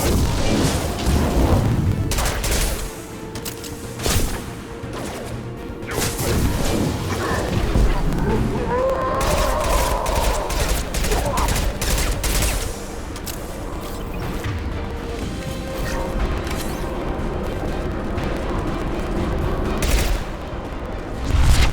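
Mass Effect 2 combat gunfire crackles in bursts throughout a long stretch of battle, with loud rattling volleys and booms mixed with brief voices of squad members calling out.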